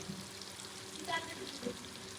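Chowmein noodles frying in a pan, a quiet steady sizzle with a couple of soft clinks and stirring scrapes, faint and continuous.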